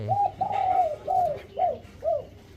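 A two-year-old wild mountain dove gives a series of soft, low coos, five rounded calls in a row, fairly close with a quiet background.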